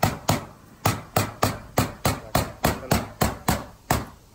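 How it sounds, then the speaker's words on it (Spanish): A rubber mallet clamps the seams of a standing seam metal roof, striking in a rapid sequence of about twelve sharp, close knocks at a quick, slightly uneven rhythm, with no talking. "su martillo de goma para no doblarla"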